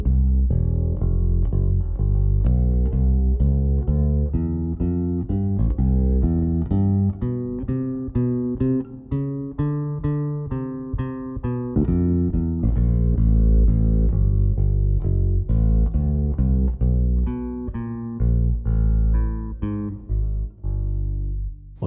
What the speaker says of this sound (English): that's the sound of the flat wound string